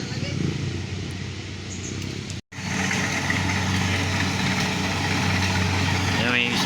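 A motorcycle loaded with freshly harvested rice runs on a rural road, its engine holding a steady, rough drone at moderate distance, briefly cut by a short dropout before resuming.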